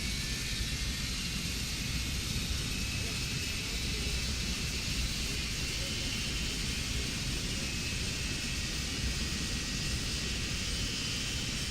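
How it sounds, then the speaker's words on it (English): The left engine of a PMDG 777-200ER airliner starts up in Microsoft Flight Simulator 2024 with a steady, dense jet roar and a high whine, heard alone without talk. "Start left engine."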